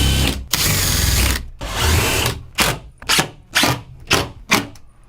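A power drill drives screws into a panel of a triple-stacked bunk bed built inside a Van Hool bus conversion; a long loud whir, a second run, then a series of short repeated bursts close by, with no talk.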